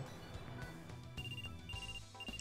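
A mobile phone ringtone from the Trauma Center: Second Opinion video game chimes in a repeating high electronic pattern over the game's background music, moderately loud and steady throughout.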